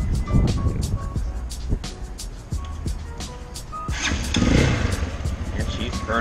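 A CSC TT250 motorcycle engine rumbles steadily nearby, with irregular revving and a rougher, louder surge toward the end, while someone talks over it.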